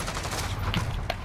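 Rapid gunfire in Call of Duty: Modern Warfare, a short burst of dense, sharp shots fired in quick succession with a few louder cracks standing out near the end.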